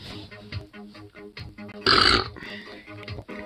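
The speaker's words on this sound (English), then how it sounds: "Ooh, that was a fat burp." One loud, deep burp bursts out in the middle, a rough guttural belch lasting about half a second against a quieter background of low murmuring sounds.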